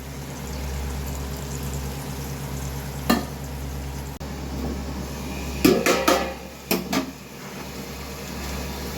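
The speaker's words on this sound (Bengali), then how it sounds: "আলু কুমড়ো যাতে ভালো করে মজে যায় তাই পরিমাণ মতো জল দিয়ে কিছুক্ষণের জন্য ঢেকে দেব" Lid set on a pot of potato and pumpkin curry with fish head and chickpeas, a soft sizzle under a steady hum, then a cluster of sharp metallic clanks and taps from the lid and pot.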